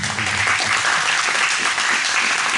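Dense, steady clapping from an audience at a school chapel gathering honoring a student leader, loud and continuous throughout with no speech over it.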